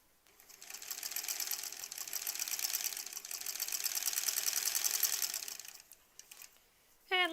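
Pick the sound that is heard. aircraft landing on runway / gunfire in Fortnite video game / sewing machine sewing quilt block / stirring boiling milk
sewing machine sewing quilt block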